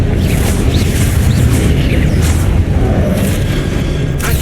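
A Confringo blasting spell in Hogwarts Legacy: loud, sustained booming rumble of magical explosions with a dense low-end roar throughout and faint crackling bursts on top.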